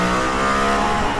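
Mercedes-AMG ONE hybrid hypercar with a split turbo and electric motor, accelerating hard around the Nürburgring; its engine screams loud and close in a steady, high-pitched rising note with no talking.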